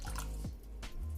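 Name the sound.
milk being poured into batter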